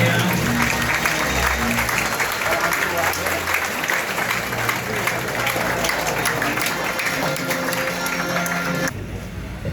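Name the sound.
audience applause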